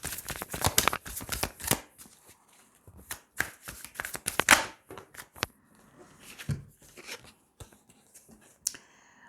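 Tarot cards are handled, shuffled and laid out on a table, making quick papery flicks and snaps in uneven bursts, close and fairly quiet.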